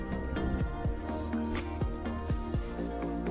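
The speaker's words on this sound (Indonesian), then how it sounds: "ini seperti ini kita siram yang dari atas turun ke bawah airnya" Water splashing and dripping onto strawberry plants in stacked pots, poured from the top so it runs down to the lower pots, a soft continuous patter with scattered heavier drips, close and fairly quiet.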